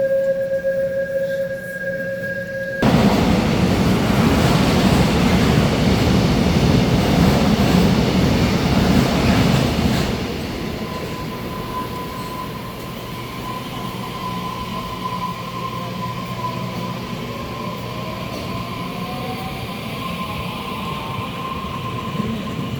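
A train rumbles loudly as it pulls away from Suwon station, a tone chiming beforehand, then the noise eases into a steadier roll with a faint high squeal of wheels.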